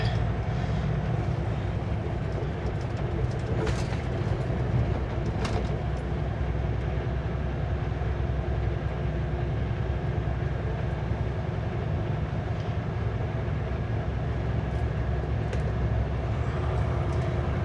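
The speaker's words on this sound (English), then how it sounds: "Engine brakes on the lowest setting." A Super B truck runs with its engine brake on the lowest setting, a steady low rumbling drone that holds constant throughout with road noise and a few faint clicks over it.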